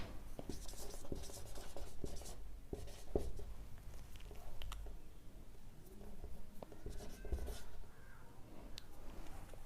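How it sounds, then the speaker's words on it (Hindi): Hand writing on a board during a Hindi-language chemistry lecture on metallurgy, minerals and ores, with steady scratching and tapping strokes running through the whole stretch against a low room hum. "चलिए तो हम यहाँ पे लिखते हैं"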